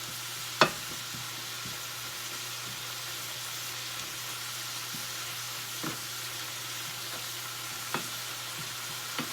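Zucchini noodles sizzle and fry in a hot pan, giving a steady crackling hiss while they are stirred, with a few sharp clicks of the utensil against the pan.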